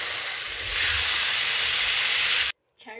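Eggs and pork belly strips stir-fry in a hot pan, giving a loud, steady, close sizzling hiss that cuts off abruptly near the end.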